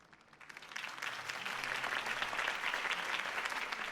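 A video game crowd bursts into applause that swells quickly and holds as a dense, steady wash of clapping.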